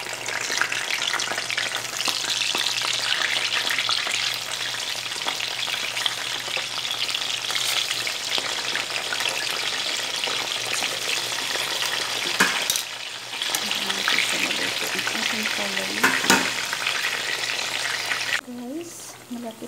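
Eggplant fries in a pan with a dense, steady sizzle throughout, broken by a few brief clatters of utensils and a short quieter stretch near the end.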